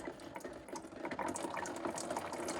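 Coolant drains from a Kubota 108 tractor under repair into a catch container, a steady close pouring and splashing of liquid that runs on continuously.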